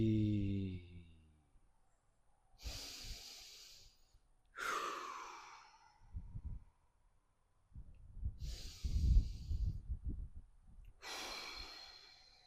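Slow deep breaths during an advanced yoga twist, each long exhale breathy and sigh-like with quieter gaps between, close and clear; no talking.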